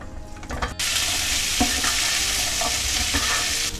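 300 grams of okra dropped into hot oil with ajwain and hing, bursting into a loud, sustained, close sizzle after a brief clatter, with faint stirring scrapes under the steady frying hiss.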